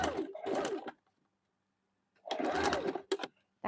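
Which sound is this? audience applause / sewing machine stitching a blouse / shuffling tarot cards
sewing machine stitching a blouse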